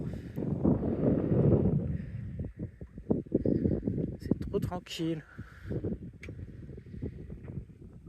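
Wind buffets a small sailboat far out at sea, small waves slapping the bow, a steady broadband rush strongest at the start, then someone talks calmly over it.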